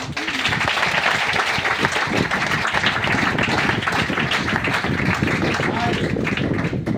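A seated audience at a branch meeting in Patna claps hands together, a dense, continuous burst of applause that stays loud and even from start to finish.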